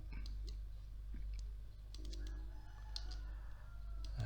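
A computer mouse clicks a few times on a Windows 10 PC, light, faint taps spaced irregularly over a quiet background.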